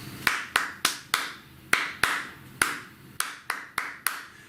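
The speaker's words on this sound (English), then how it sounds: "Both of you, Alto 1 and 2, can clap this rhythm." Hands clap a rehearsed rhythm for alto saxophone parts: eleven or so crisp, close claps in a counted pattern with short gaps, each one sharp and distinct against a quiet background.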